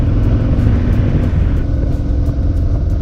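A loaded truck rolls past nearby on the road, a loud, close, continuous rumble of engine and tires filling a few seconds.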